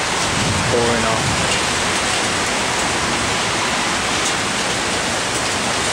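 A steady downpour in Toronto, rain pouring in a continuous close hiss, with a faint voice briefly under it early on.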